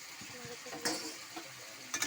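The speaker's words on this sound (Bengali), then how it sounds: "মশলাটা কষানোর জন্য একটু জল দেবো অল্প করে" Spice paste for potol (pointed gourd) curry sizzles in a pan on low heat as a little water goes in, with soft stirring scrapes and brief hissing bursts, faint and close.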